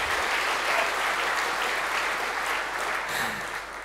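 Continuous audience applause at a Python programming conference's lightning talks session, moderately distant and even, tapering slightly toward the end with no speech on top.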